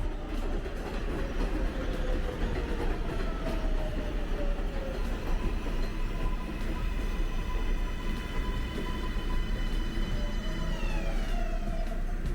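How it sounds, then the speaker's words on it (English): A subway train rumbles steadily along jointed elevated tracks on the Queens Boulevard Viaduct, with a continuous roar and a high squeal of wheels sliding up and down in pitch. "if the tracks here were continuously welded instead of jointed, the noise could be even lower"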